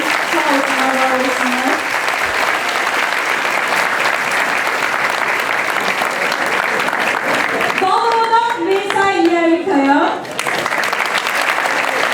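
A concert audience at a Cem house gathering applauds steadily and loudly throughout, with a singing voice rising briefly over the clapping near the end.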